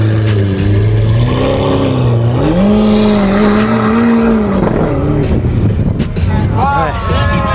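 A Batmobile replica car leaves a supercar meet with a loud, throaty exhaust note rising and falling under excited talk and cheering from a crowd nearby.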